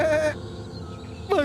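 A goat bleats twice at close range, a wavering nasal call, then after a short pause a second bleat starts.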